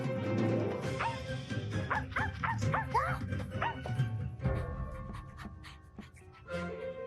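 A dog in a garden in the game Lord of the Mysteries gives a run of short yips and whimpering barks near the middle, set against a steady game backdrop of music and ambience.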